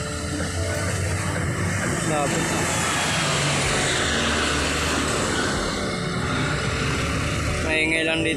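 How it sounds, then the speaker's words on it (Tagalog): Busy roadside near a street food stall with constant traffic, vehicles passing in a dense continuous rumble and engine noise, loud and close throughout. "Ang daming dumadaan sa sasakyan eh."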